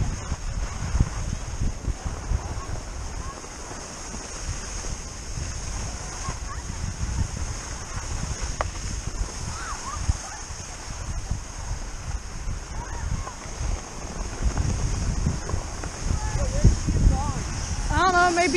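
Strong, gusty wind roars and buffets the microphone on a ski slope. The rumble is loud and constant, and people can be heard talking over it.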